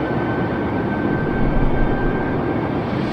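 Exterior engine noise of an Airbus A320neo in a flight simulator game during cruise, a loud, steady broadband roar with a faint constant whine, and no voice.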